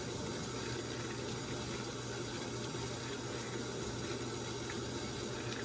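A Samsung WA50R5200AW washing machine fills with water on a deep fill, a constant gushing rush with a low steady hum underneath, unbroken and even for several seconds.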